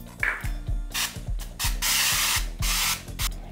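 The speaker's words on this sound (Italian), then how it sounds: "spruzziamogli sopra un po' di olio spray" Cooking oil spray hisses in several short bursts over sardines in a Proscenic T21 air fryer basket, with light rhythmic clicking underneath.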